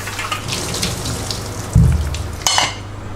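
Boiled potatoes for hara bhara kebabs are strained into a sink, with a brief heavy splash of draining water and a short clatter of the pot against a running-water background.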